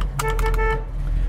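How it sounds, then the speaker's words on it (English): Horn of a 1968 Chevrolet Chevelle honking once in a steady tone for about half a second, loud and close over a low rumbling background, with no talk. "Inside our 68 Chevelle, let's start with a horn."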